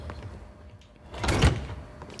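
A door swinging shut in the stealth game Hitman, a single soft thud with a short rumble, heard alone against quiet room ambience.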